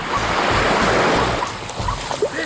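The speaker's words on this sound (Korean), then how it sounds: "바다 파도가 이렇게 공격했어 우리 집을" Sea waves wash onto a tidal-flat beach in a continuous loud surf roar, with rolling low surges and some wind buffeting the microphone and no voices.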